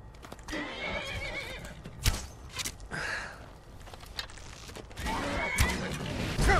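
A horse in the video game Skyrim whinnies loudly several times, with hoof clip-clops and other game effects around it and no talk.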